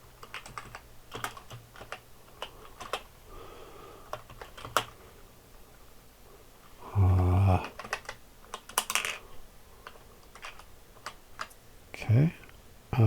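A computer keyboard clatters with irregular bursts of clicky keystrokes, close up, broken by a couple of louder thumps and short pauses.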